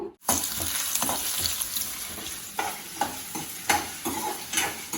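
Ginger, dried chillies, tamarind, cumin, garlic and curry leaves fry together in a pan, a loud continuous sizzle broken by repeated scraping stirs in a rough rhythm.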